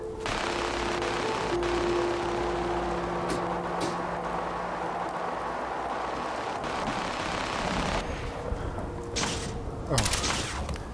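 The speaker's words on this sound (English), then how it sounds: "Oh, they're shooting." Gunfire in a VR video game, a steady rattle of shots over continuous background noise, with sharper distant bursts near the end.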